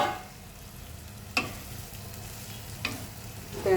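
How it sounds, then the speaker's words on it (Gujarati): Radish greens frying in a pan as they get stirred, a steady soft sizzle with two sharp scraping strokes of the utensil and a brief clatter near the end, close and unaccompanied by speech. "તેને આપણે હલાવી દઈશું।"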